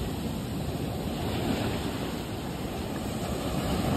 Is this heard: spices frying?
no